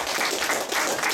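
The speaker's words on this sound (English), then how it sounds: "So we can give them a round of applause" An audience at a youth hockey club presentation claps in a dense, steady round of applause that fills the short moment without a break.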